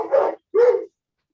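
A bull mastiff lets out two deep, loud barks in quick succession, close by, with a short pause between them and silence after.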